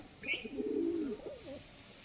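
A single old pigeon with a broken wing coos up close, a low throaty warble rising and falling over about a second, followed by a softer trailing coo.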